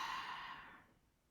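A soft, slow exhale during guided meditation, a gentle breath out that fades steadily over about a second into near silence, close and quiet.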